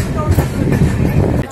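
The Mandovi Express on the Konkan Railway rumbles loudly and steadily at Khed station, with a dense, continuous rolling noise throughout.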